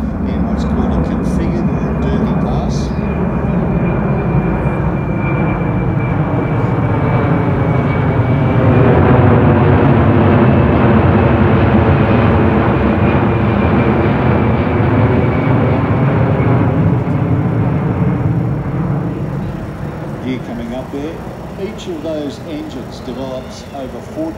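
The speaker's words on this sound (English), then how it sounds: "this aircraft is now coming in" A large passenger aircraft able to carry over 100 people approaching at the Warbirds Over Wanaka airshow, a loud sustained engine roar with whining tones that swells and slowly fades, with a commentator talking over it.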